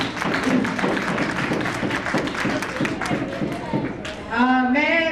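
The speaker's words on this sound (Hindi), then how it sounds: "उनके लिए बहुत जबरदस्त तालियां, उन लोगों के लिए तालियां।" A gathered audience at a family reunion bursts into sustained, dense applause that fills the room at close range, with a voice and tonal sounds rising near the end.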